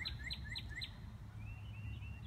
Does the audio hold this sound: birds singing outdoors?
yes